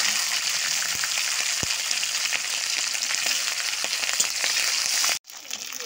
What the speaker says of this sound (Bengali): কড়াইয়ে তেল দিয়ে নিয়েছি, এবার তেজপাতা দেব, লঙ্কা, এবার ফোড়ন দেব, এবার কাঁচা লঙ্কা দিয়ে দেব